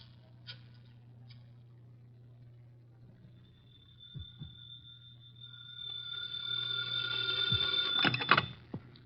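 Telephone ringing in a 1950 radio detective drama, a thin electric bell tone that starts faint and swells louder over a low steady hum, ending in a sharp clatter.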